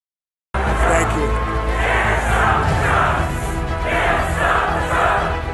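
A large crowd at a Trump rally roars and chants after the speech, loud and close, with rhythmic swells of many voices after a brief silent start.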